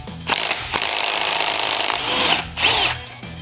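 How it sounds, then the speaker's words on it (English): A compact M12 stubby impact driver hammers at head bolts buried deep in a 1996 Kawasaki ZX6R motorcycle, loud rattling bursts with brief pauses between pulls, close and without talk. "The impact driver really had to struggle with that one."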